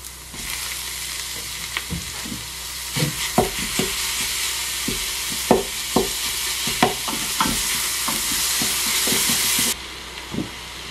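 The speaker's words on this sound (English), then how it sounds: "Followed by the minced meat, which we are going to allow to brown." Minced meat browns in a Ninja Foodi, a loud steady sizzle and hiss close up, broken by repeated scraping and stirring knocks at an irregular pace, the sizzle dropping off near the end.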